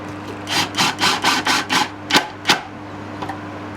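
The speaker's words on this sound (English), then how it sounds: "The last few just need a little bit of persuasion with the mallet." A mallet knocks wooden pieces into place on a simple outdoor bench, giving about eight close, fairly loud blows in a steady rhythm, followed by a pair of sharper knocks and a faint tap.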